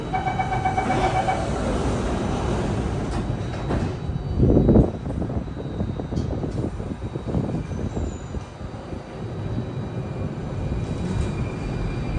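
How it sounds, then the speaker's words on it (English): Rumbling interior of a Singapore SMRT Circle Line metro train between Nicoll Highway and Promenade, with rail noise throughout and a brief burst around the middle as the doors slide shut. "Doors are closing."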